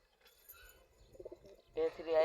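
A full black pigeon with feathered feet and orange eyes coos softly, low and close, building to a louder throaty burst near the end amid faint background noise.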